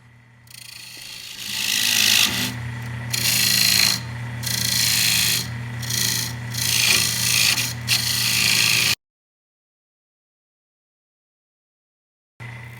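A small hand tool shapes the edge of a wooden pulley, making a steady rasping, ratchety scrape in repeated strokes for about nine seconds before abruptly cutting to silence, close and without speech.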